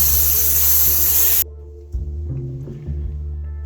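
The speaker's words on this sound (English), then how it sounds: "right now I'm just trying to get the first initial coat on from the bottom, then I'll spray it again" An aerosol can sprays a first coat of paint onto a model tree inside a spray booth, a loud steady hiss that cuts off after about a second and a half, followed by quiet handling noises.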